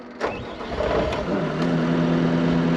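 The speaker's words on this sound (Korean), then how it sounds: "일단 한번 운전을 해 보겠습니다 일단 시동을 파워를 키고요" A construction machine engine used for backfilling cranks and starts, then settles into a steady, close, mid-pitched idle hum.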